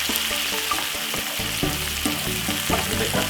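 Corned beef frying in a pan for a Jamaican dish, a steady loud sizzle with crackling pops and occasional clinks of a utensil against the pan.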